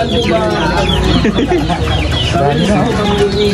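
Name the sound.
chickens clucking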